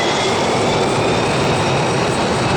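An Airbus A350 jet engine's exhaust gives a loud, steady, broadband roar that holds evenly throughout with no voices over it.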